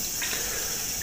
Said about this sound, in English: stick them in the sink and let the tap run over them for a little while